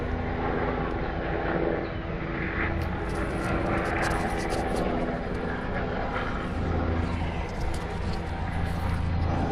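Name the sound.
aircraft circling around an island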